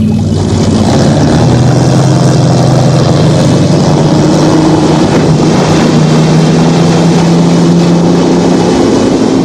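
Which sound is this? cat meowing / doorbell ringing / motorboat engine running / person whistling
motorboat engine running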